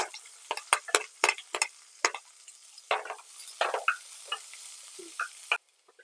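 Sharp, irregular crackles and pops from onion frying in hot oil with mustard seeds and lentils, close and fairly quiet, with short bursts over a faint sizzle.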